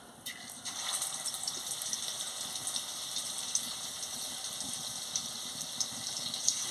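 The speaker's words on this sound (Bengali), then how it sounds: "আমি বড়াটা ভেজে নিচ্ছি।" Coriander leaf fritters frying in hot oil in a heated kadai give a steady, close sizzling hiss scattered with small crackles and pops throughout, with no voices.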